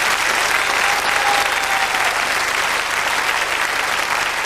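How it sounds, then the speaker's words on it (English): Studio audience on a 1995 British game show claps loudly and continuously, a thick wall of applause from the whole crowd with no gaps. "Ladies and gentlemen, a round of applause, please,"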